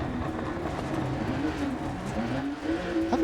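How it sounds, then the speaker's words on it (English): A Porsche 911 rally car engine in Dirt Rally 2.0 drones and revs steadily, its pitch rising and falling as it shifts through gears, with some tire and gravel noise underneath. "the 911 handles beautifully, sounds amazing"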